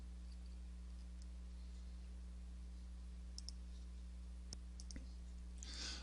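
Computer mouse button clicks at a desk, a few faint, sharp clicks spaced irregularly over a steady low electrical hum, with nobody talking.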